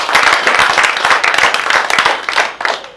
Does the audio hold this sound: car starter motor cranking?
no